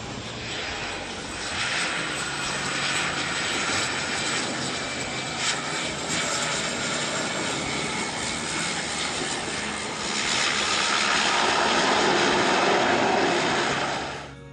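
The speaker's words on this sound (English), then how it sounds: "A Bombardier Dash 8 aircraft approached the Sisiumiut airstrip" A Bombardier Dash 8 turboprop approaching to land at the Sisimiut airstrip in Greenland, a steady droning engine roar that holds loud and swells further near the end, no talking.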